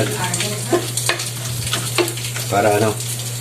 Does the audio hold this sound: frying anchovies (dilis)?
yes